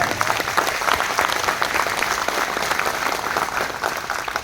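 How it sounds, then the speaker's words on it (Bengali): Audience at a company gathering breaks into hearty applause, a thick, continuous patter of many hands clapping at steady volume throughout, with no talking over it. "দ্য টিসিজির জন্য একবার জোরদার হাততালি।"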